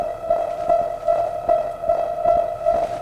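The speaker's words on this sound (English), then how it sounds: "the music is now much more sinister, making Phenomenon appear pretty damn scary" Sinister music from the video game Dispatch: a steady droning tone pulsing in a slow, regular throb about every half second, moderately loud and dark, with no talking.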